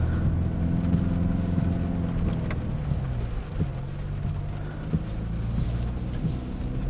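A 2025 Chevrolet Colorado ZR2 Bison rolls slowly across grass to clean mud from its tires, its engine a steady low rumble with faint thumps from the terrain.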